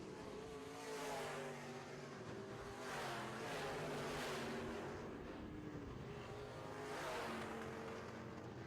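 Modified race car on a dirt oval during Midwest Modifieds heat racing, engine roaring and surging as it is thrown hard into turns one and two, with repeated rising and falling revs and other cars droning nearby.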